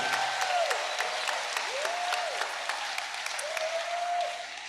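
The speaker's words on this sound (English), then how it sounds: "a round of applause to all the Duke Ellington educators" Steady applause from a graduation ceremony audience honoring educators, a dense wash of many hands clapping continuously, broad and moderately distant, with a voice heard briefly over it.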